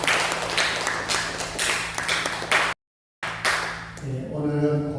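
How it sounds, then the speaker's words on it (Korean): A church congregation at a Sunday worship service claps together in a dense, steady burst, briefly cut off, then followed by a few sustained organ or keyboard tones. "박수하겠습니다."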